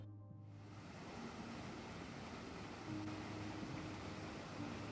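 Waterfall at the base of the falls near Goshal in the Manali hills, a steady, dense roar of rushing water with no voices, constant and fairly near throughout.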